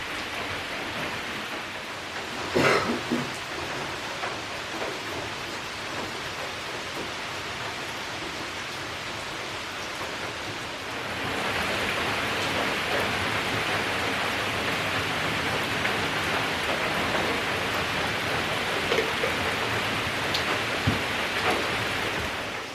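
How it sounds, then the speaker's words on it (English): Steady rain falls on and around a wooden trail shelter, a constant dense hiss that swells louder partway through, with occasional heavier drips standing out; no voices. "sitting here drinking my coffee in a shelter as the rain falls"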